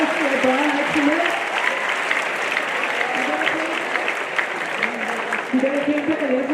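A school assembly crowd claps for its athletes at a school opening, with sustained applause filling the hall and a voice speaking over the clapping.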